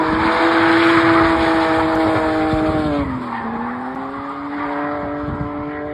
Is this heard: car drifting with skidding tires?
yes